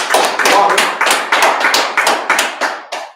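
People clap in unison in a steady rhythm, with about ten loud, close, evenly spaced claps and no one talking.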